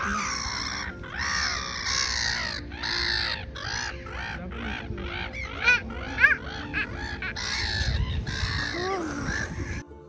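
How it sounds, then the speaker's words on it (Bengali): Seagulls at the harbour of Volendam in the Netherlands give loud, repeated squawking calls in quick series, some overlapping, with breezy outdoor noise beneath them. "দেখে মনে হচ্ছে এগুলো শিগাল পাখি। পাখিগুলোও ডাকছে,"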